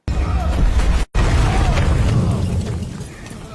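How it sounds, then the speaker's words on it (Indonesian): A film explosion destroying an underground tunnel: a loud, heavy explosive rumble with a deep boom, briefly cut by a gap of silence, then continuing as a rolling roar that slowly fades. "terjadilah ledakan besar yang menghancurkan terowongan bawah tanahnya"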